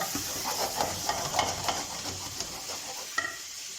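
Chicken pieces being stirred in a hot pan for Arabic madhruba, soft sizzling under a series of scraping, clattering spoon strokes, close but fairly quiet, ending with a sharper knock.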